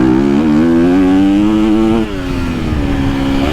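A KTM SXF 450 motocross motorcycle fitted with an FMF exhaust revs hard and accelerates, its loud, rising engine note pulling steadily before easing slightly, close and alone without any talk.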